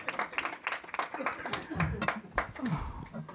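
An audience at a community poetry event gives a short round of applause, scattered hand claps mixed with chatter and light laughter, moderately faint.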